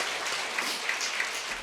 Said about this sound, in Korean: 우리 유년부에게도 수고했다고 박수, 위로의 박수 드리겠습니다.